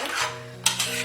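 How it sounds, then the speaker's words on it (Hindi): Spinach and spices for palak paneer are stirred in a pan, with a brief scrape of the spatula and a soft metal tap close by, over a steady low hum. "अब इसको चलाना है।"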